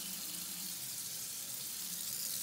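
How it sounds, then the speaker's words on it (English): Kitchen faucet running after a diverter repair, a steady even rush of water pouring into the sink, close and continuous with no whistling or thumping, no talk. "now the water's turned back on from underneath the sink, and then we're just gonna check out the faucet and see if it works"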